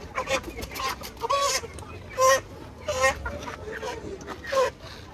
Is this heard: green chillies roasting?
no